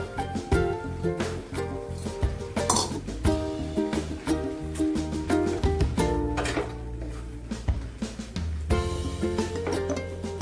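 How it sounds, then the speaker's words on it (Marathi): Fenugreek leaves are stirred into cashew paste in a pan, with repeated clinks and scrapes of a spoon against metal in an irregular rhythm, close and clear. "ही मेथी चांगली त्याच्यामध्ये एकजीव करून घेऊया."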